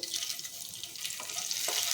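Cloves, a cinnamon piece, bay leaves, dried red chillies and cumin seeds sizzle quietly in hot oil, a soft steady crackle close by with no talking.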